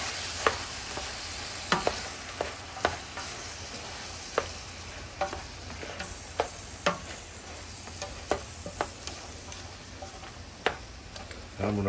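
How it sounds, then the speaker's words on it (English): Jambalaya ingredients with seasoning sauté in a pot with a steady sizzle while a spoon stirs them, scraping and knocking at irregular intervals, close and alone with no talk. "I'm gonna keep the video going until all this is kind of sauteed down."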